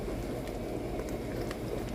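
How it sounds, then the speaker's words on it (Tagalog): Moussaka sauce bubbling in a covered pot, a steady close simmering burble that runs without break for the whole stretch, with no voices over it. "Kumukulo na, guys."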